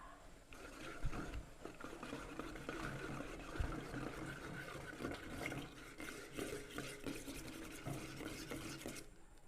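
Honey syrup mixed with jam is stirred in a pan on a stove, a soft, steady scraping and sloshing that continues at close range, quiet and alone for most of its length.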